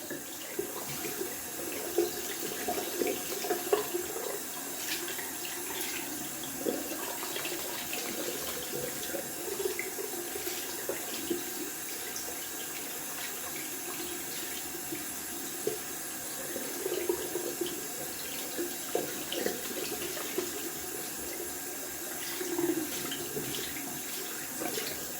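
Tap water runs steadily into a sink for a long stretch as a shaving razor is rinsed under it, with small splashes and clinks rising from the constant flow.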